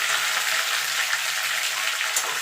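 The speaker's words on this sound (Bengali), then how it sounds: "সবজিগুলো আমি মিনিট 2 ধরে একটু ভাজা ভাজা করে নেব" Potato, papaya and green banana frying in a pan, a steady bright sizzle with faint crackles and no pauses.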